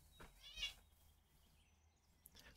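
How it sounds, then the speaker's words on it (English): A domestic cat meows close by in a game setting, a couple of brief faint mews over a quiet low background hum, with no talking. "Always with a meowing."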